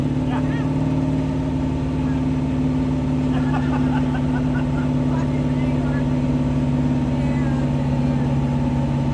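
A sand car engine idling and running steadily with a strong constant hum and drone up close, while voices talk over it throughout.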